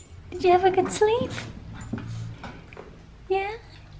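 Puppies yip and whimper in high, wavering bursts, close by, with a person talking excitedly over them.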